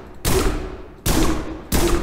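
Gunfire in a prison simulator video game: three loud, sharp bursts of shooting at roughly even intervals, each one sustained briefly before stopping.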